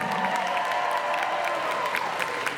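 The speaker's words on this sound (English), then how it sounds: "Big round of applause for everyone here." Audience applause and cheering for contestants at an in-character cosplay contest, a steady dense wash of many hands clapping with scattered whoops, filling the room evenly without talk.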